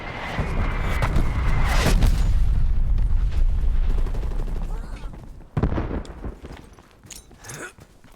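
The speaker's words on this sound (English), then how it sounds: "Artillery targeting detected." Artillery strike explosions in a first-person shooter game: continuous heavy booming and rumbling blasts with rapid gunfire crackle, loud and dense throughout, with a sharp fresh impact partway through and further hits after.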